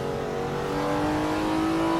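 A BMW M3 CSL in the Assetto Corsa EVO racing game, its engine droning steadily with a slowly rising tone under a light road hum, close and continuous for two seconds.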